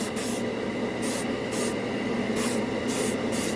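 An airbrush sprays Tamiya flat red paint in a steady hiss, broken into short bursts by quick pauses in an even rhythm, close and alone.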